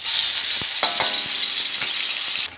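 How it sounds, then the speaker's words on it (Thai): Thai curry paste for a mussel curry sizzles and spits in hot olein oil in a pan, a loud, close, continuous hiss broken by a few soft knocks of stirring, ending abruptly. "น้ำมันร้อนแล้วนะคะเติมพริกแกงลงไปค่ะ"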